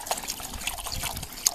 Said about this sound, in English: Going to add some water to my pot.